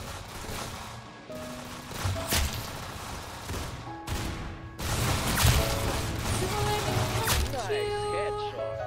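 Repeated gunfire bursts from the Roblox game Arsenal, loud and close with sharp impacts and crashing hits, layered under chatter from a player talking throughout.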